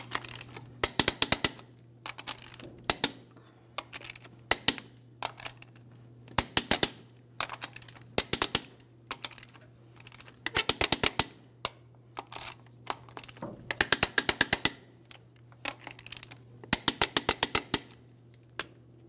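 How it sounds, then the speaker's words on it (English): A torque wrench ratchets lug nuts tight on the rear wheel of a 2007-2014 GMC Sierra 2500 HD, crisscrossing at 140 foot-pounds: repeated bursts of sharp, rapid clicks with short pauses between, over a steady low hum. "let's torque each one of our lug nuts to 140 foot-pounds in a crisscross manner"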